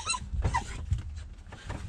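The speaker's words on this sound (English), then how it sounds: "I cannot believe, oh my goodness, you're barking." An excited dog reacting to a gray fox gives a couple of short, moderately loud bark-like yelps and whines nearby in an otherwise quiet space.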